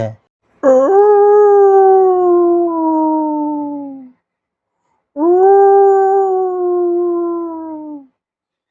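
A human voice imitates a dog's howl in two long, drawn-out wails, each falling slowly in pitch, separated by a brief silence.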